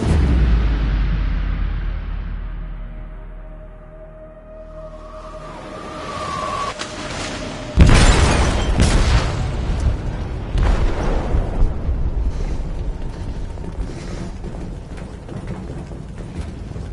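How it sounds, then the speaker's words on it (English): A huge explosion rips through a ship's hold in the game Detroit: Become Human, a sudden loud blast after a quiet rumbling build-up, followed by a long roaring, crackling aftermath of debris and rumble. "They detonated an explosive in the hold"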